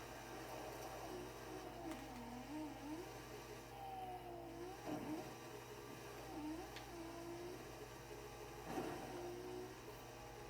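A Mercedes-Benz truck built for off-roading in Forza Horizon 5 drones along with a steady mid-pitched engine hum, its revs rising and falling in wavering sweeps, with brief thumps and bumps scattered through the run.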